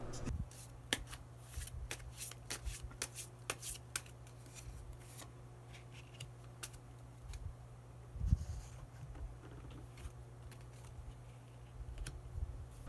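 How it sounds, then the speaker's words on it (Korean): Tarot cards being shuffled before a hidden card is drawn, a steady run of crisp riffling flicks and slaps close by with a low hum underneath, no talk. "마지막으로 히든 카드 한 장 더 뽑아보도록 하겠습니다"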